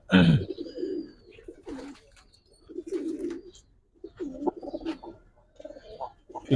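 Giribaz pigeons coo in a loft, a run of low rolling calls repeating in bursts across the stretch, fairly close and clear with no talk over them.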